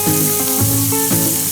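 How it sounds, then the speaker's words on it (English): Sous vide shrimp hit a hot pan for a quick sear, giving a loud, close, steady sizzle of frying with a few tonal clanks or scrapes of cookware ringing over it. "Just a quick little sear, boys and girls."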